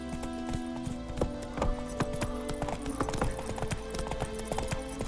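Roach, the horse in The Witcher 3, trots along with steady, close clip-clopping hooves that keep an even rhythm throughout, set against a tonal in-game background.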